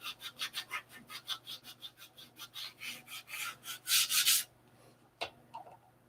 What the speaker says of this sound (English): These parts will be sanded